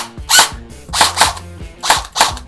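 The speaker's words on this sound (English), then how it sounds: "until the gun is making the proper noises" An AEG airsoft gun fires on semi-automatic, five sharp close snapping shots in an uneven rhythm, each with a brief mechanical whir of the motor and gearbox, loud with no talk.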